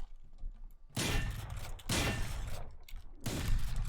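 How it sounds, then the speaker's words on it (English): Shotgun blasts in the video game Valorant, three heavy booming shots spaced about a second apart, each with a broad roaring tail, loud and close. "Shotguns are actually really fun."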